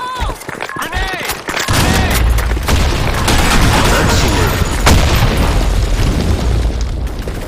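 A loud grenade explosion booms in a tactical shooter game, followed by sustained, dense bursts of gunfire that keep up nonstop close by.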